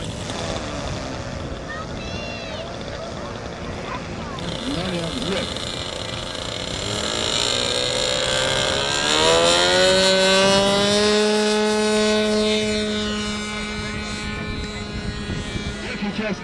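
A scale model of a Japanese World War II aircraft runs its engine, a rising, whining drone whose pitch climbs and then holds steady, fairly loud and close, with a voice talking faintly underneath.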